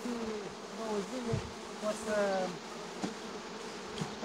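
Honeybees buzz around a newly formed swarm being set into hives, a steady insect drone with a few louder close passes, under some faint voice nearby.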